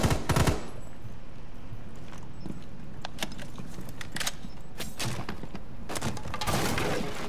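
Rapid gunfire from Rainbow Six Siege as a player shoots at a camera: a dense opening burst, then scattered sharp shots and short volleys at steady loudness, ending in another burst.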